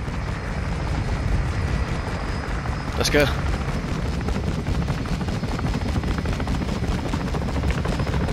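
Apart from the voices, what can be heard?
helicopter in Modern Warfare 2 video game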